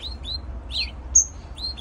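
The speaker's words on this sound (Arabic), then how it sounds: "هاي مثل ما نلاحظ الفرخات قامت تبكي تريد أكل" Canary chicks in a nest cage give short, thin, high-pitched begging cheeps in quick separate bursts, close by, over a low steady background hum.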